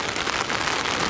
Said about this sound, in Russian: Дождь сильнее становится.